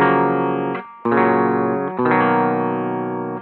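Three distorted electric guitar chords from a song struck one at a time, each left ringing for about a second before the next.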